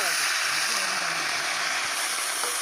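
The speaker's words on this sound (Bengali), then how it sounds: "এই ফুলকপিটা আবার ছাড়বো তেলে।" Cauliflower pieces fry in hot oil at an outdoor picnic cookout, giving a steady, loud sizzling hiss throughout with faint speech in the background.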